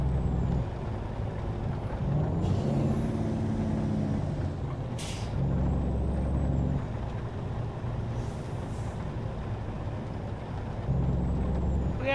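A Harven W990 truck driving in Euro Truck Simulator 2 drones with a low, steady engine note that rises and falls in several gear-like surges, punctuated by sharp hissing air-brake bursts and faint beeps.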